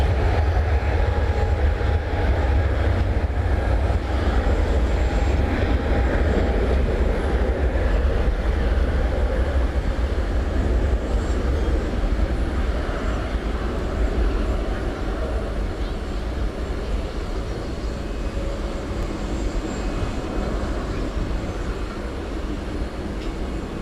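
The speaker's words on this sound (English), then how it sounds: "The 747-8, the 10-year-old plane. It is going to Seoul, and it's taking off from the short" A ten-year-old Boeing 747-8 cargo jet takes off at night from a short runway at DFW Airport, its broad, heavy engine roar sustained and fairly loud, rumbling low the whole time and fading slightly toward the end.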